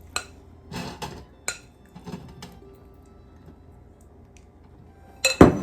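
Homemade gluten-free croutons clatter into an air fryer basket and get pushed around into an even layer: a few light, scattered clinks and rattles, close up, with quiet gaps between them and a louder clatter at the end.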